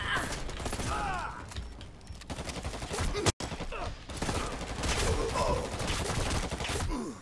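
Gunfire and incoming fire support in the shooter Dirty Bomb, dense loud bursts of shots and mechanical clatter that go on almost without a break, with a brief dropout near the middle.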